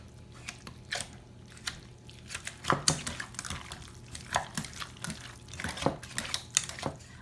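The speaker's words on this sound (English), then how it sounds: "Now I'm going to take my handy dandy potato masher and mix and mash all this together." Potato masher working through cooked potatoes and cheddar cheese in a bowl, giving soft wet squishes and scattered clinks against the bowl in an irregular rhythm, close and fairly quiet.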